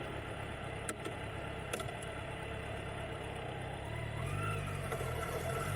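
A motorcycle engine hums steadily while riding, a continuous mid-pitched drone with road and wind noise, rising a little in volume near the end as it picks up.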